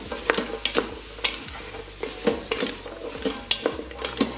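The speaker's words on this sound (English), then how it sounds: "And give it a good mix." Butternut squash soup is stirred in an Instant Pot, with rhythmic scraping strokes of a utensil against the pot over a soft background sizzle, close and clear.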